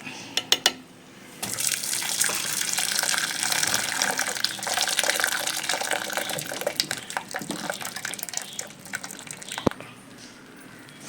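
Water draining off sliced raw plantain (kaya) being prepared for frying chips, a continuous splashing pour with scattered drips and clatters, fairly close, ending in a few sharp knocks.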